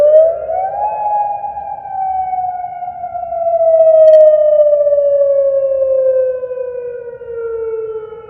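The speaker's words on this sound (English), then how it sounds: "Besides constant sirens turning on when there's any attacks either from Iran or for Israel." A single air raid siren sounding in Israel during missile attacks, a loud sustained wail that rises at the start and then slowly falls in pitch, with faint background noise underneath.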